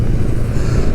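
Kawasaki Z900 motorcycle ridden on a road in Chennai, its engine droning steadily with low rumble and wind noise throughout one second, no voices.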